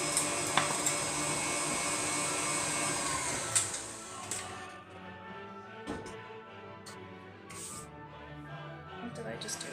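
Stand mixer kneading bread dough for fried bread, a steady motor whir that drops to a lower hum partway through, with scattered clicks and knocks, close by and partly under talk.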